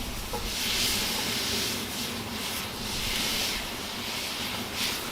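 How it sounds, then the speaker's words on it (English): Ground meat sizzles and browns in a legged camp Dutch oven over an open fire for chili, a steady broadband hiss that swells and eases gently throughout, close by, with no talking. "Go ahead and break that up so it'll start browning."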